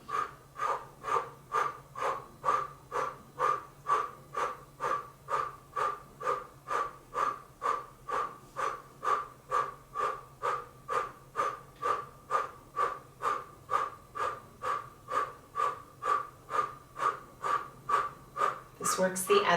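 Forceful breath of fire exhales in a Kundalini yoga kriya, a rapid, even series of about forty sharp, close breath pulses that repeat steadily with no pause.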